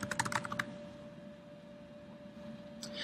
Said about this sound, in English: I'm going to type into the address www.weebly.com